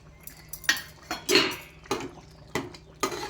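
Spoon stirring vada pulusu with chaat masala and coriander in a metal pot, producing about six distinct clinks and scrapes against the pot at a steady pace, close and clear with no voices.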